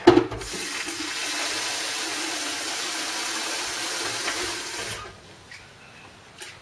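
Cold water pours steadily into a home lager brewing container for about five seconds, a loud continuous rushing that then stops, leaving a quiet trickle.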